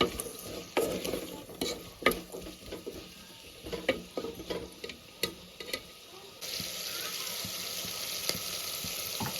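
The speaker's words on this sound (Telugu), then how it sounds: "అల్లం వెల్లుల్లి పేస్ట్ ఒక స్పూన్ వేసుకుంటున్నానండి ఇది కూడా పచ్చి వాసన పోయేంత వరకు వేగాలి" Ginger garlic paste frying in a pan while being stirred with a spoon, cooking for a bottle gourd dal, with irregular scraping clinks over a soft sizzle, then a steadier, louder hiss near the end, close with no talk.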